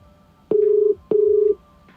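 Phone call ringtone played through a Mivi Fort S24 mini Bluetooth soundbar: two clear electronic tone bursts, each about half a second long, close and loud over near silence.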